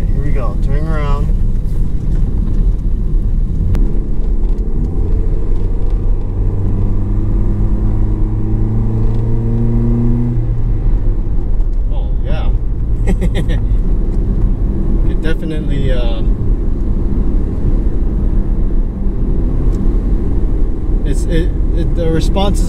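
A Toyota Yaris fitted with a 1ZZ throttle body climbs uphill, its engine droning loud and close and rising in pitch through several gear pulls, while someone talks over it now and then.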